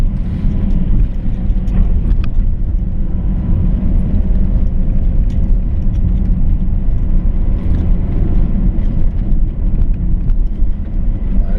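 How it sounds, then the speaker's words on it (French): A car climbing a mountain road toward the Col de Romme above Cluses, heard as a steady, fairly loud low engine and road rumble that persists throughout with no voices. "Il y a une voiture qui monte, donc on fait attention aussi."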